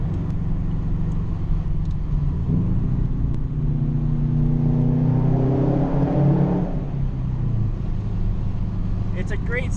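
A 2004 Subaru STI with a Tomei catback exhaust drives at night, its boxer engine rumbling loudly from inside the cabin, rising through a rev and easing back, with faint talk underneath.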